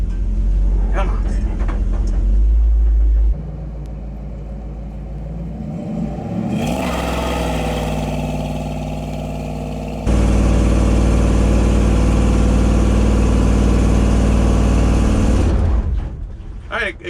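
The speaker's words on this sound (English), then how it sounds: "Technically, it did spin the tires." A ramp truck engine idles and revs hard during a burnout attempt, a loud sustained roar that drops back then surges again for several seconds, with voices talking over it.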